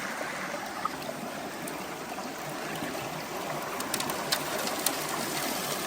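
A Kreeger sluice box runs in a Connecticut river, giving a steady, close rush of flowing water with a faint mechanical hum underneath and a few small splashes and clicks near the end.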